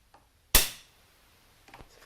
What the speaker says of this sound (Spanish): Se efectúa el disparo